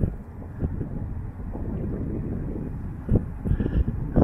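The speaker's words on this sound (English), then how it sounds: "I can hear the exhaust." A diesel heater's exhaust runs steadily at close range, a continuous low rumbling roar with a few louder bursts toward the end; no one speaks.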